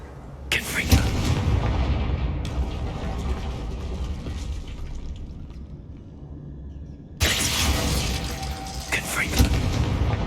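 Two loud fire-blast booms of the Confringo spell erupt in the video game Hogwarts Legacy, each a sharp burst trailing off into a fading crackle and rumble.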